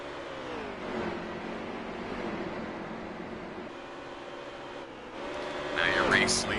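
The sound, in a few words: race car engines racing on track, from video game NASCAR Heat 3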